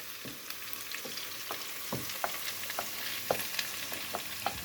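Steady frying sizzle of egg in a pan with a crackling hiss throughout, punctuated by periodic scraping taps as the egg is stirred and broken into pieces.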